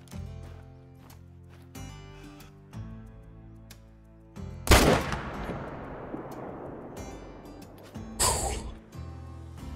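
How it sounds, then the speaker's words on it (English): A single loud rifle shot fired at a mouflon in the hunting game Call of the Wild rings out sharply and decays, set among quiet, steady game music with a second burst of noise shortly after. "That should have been a pretty good shot."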